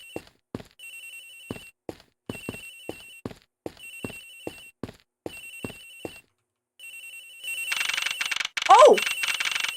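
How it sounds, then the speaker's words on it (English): A phone rings in the Ace Attorney Investigations video game, in short repeated electronic trill bursts with brief gaps, followed by a louder burst of game sound effects near the end. "Agent, his phone's ringing from somewhere."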